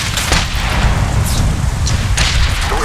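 Sustained enemy gunfire in The Saboteur, a dense, loud barrage of shots and booming low rumble filling the whole stretch with a few sharper cracks standing out, no talking.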